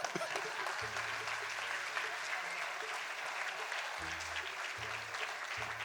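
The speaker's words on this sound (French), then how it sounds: "Vous pouvez applaudir." An audience applauds at a New Year's greetings ceremony in Villejuif, with a steady, distant wash of clapping that runs throughout beneath a low hum.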